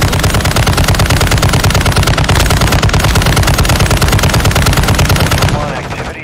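Sustained automatic gunfire from a machine gun in the video game Warzone 2.0 DMZ, a loud unbroken stream of rapid shots lasting several seconds before tapering off at the end.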